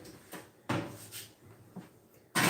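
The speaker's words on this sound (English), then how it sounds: "So I'm just going to open this door up in front of you here, Bree." An oven door opens in a kitchen, giving a few separate hinge clunks and thuds at moderate loudness close by, with quiet room noise between them.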